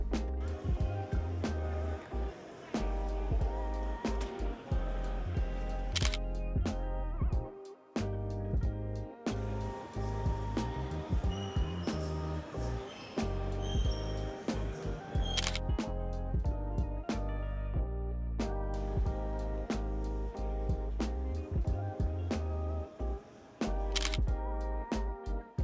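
A Fuji X100V camera fires its shutter during street photography in Los Angeles, with scattered, crisp single clicks spread across a steady bed of background music and occasional speech.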